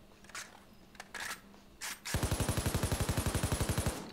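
Full-auto fire from the Falcon rifle in Payday 2: a few scattered clicks and handling sounds, then a rapid, evenly spaced burst of about twenty loud shots lasting around two seconds.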